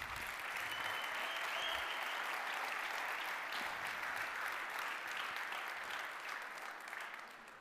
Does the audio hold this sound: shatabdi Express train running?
no